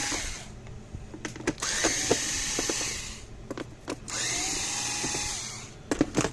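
A power driver backs screws out of a Kencove EKS.5H solar charger casing in short whirring bursts, separated by clicks and handling noises, close and fairly quiet.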